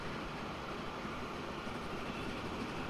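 Rail traffic in the Transport Fever 2 tropical map rolls by as a steady, dense rumble with no breaks, holding an even loudness throughout with no voices over it.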